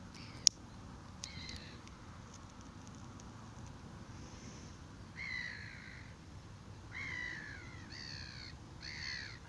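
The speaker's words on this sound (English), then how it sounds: "There's loads of birdies." Crows caw outdoors in short, bright, repeated calls, faint to moderate and a little distant, mostly clustered in the second half over a steady low rumble of outdoor background.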